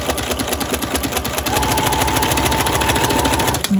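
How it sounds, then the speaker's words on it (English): A sewing machine fitted with a walking foot chain-stitches fabric pieces quilting-style in a fast, steady mechanical rattle. It runs close and continuous, then stops abruptly near the end. "What I'm doing is just basically chain stitching like I would do in quilting"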